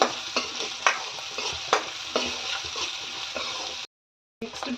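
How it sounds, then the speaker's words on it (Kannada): Onions with green chillies frying in a pan for finger millet upma, a loud, constant crackling sizzle broken by spatula scrapes, cutting out briefly before resuming. "ಈರುಳ್ಳಿ ಸ್ವಲ್ಪ ಕೆಂಪಗಾಗೋವರೆಗೂ ಫ್ರೈ ಮಾಡ್ಕೋಬೇಕು"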